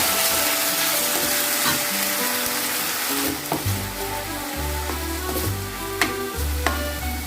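Sliced onion with garlic ginger paste fries in hot oil for a chicken curry, a steady loud sizzle with occasional scraping stirs and spoon knocks toward the end.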